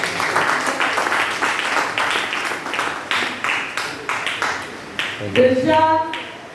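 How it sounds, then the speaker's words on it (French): Applause at a church gathering in a French-speaking community, marking the gift of a first-aid kit: a broad wash of clapping hands with steady rhythm, followed near the end by a brief tonal sound, no speech. "On acclame, on acclame."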